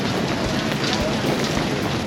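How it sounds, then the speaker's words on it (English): Summer rain pouring in Sydney, a dense steady hiss of drops with faint wind noise, close and continuous without any clear voices. "Nothing like a summer rain."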